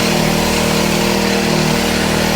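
A petrol-powered crop sprayer engine idles steadily at about ten percent throttle, a loud, continuous close-up drone with an even buzzing hum and no pauses.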